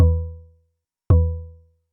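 Two deep synthesized bass notes shaped by a transient shaper and multiband dynamics, each with a sharp attack and a smooth, mellow decay, separated by silence.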